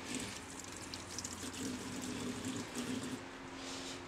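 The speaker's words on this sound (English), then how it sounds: "Let me just give it a rinse because it's had salmon on it." Running water from a tap pours steadily over a sharp knife being rinsed after cutting salmon, a continuous close splashing stream with no talk.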